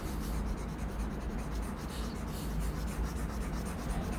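Pen writing on paper, a continuous close scratchy scribble that runs steadily for about four seconds without pause or voices.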